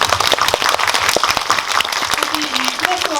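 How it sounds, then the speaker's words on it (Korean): Loud, dense applause from a cinema audience at a Netflix series homecoming screening event in Yongsan, Seoul, with steady clapping throughout and faint voices near the end. "여러분 박수 부탁드립니다"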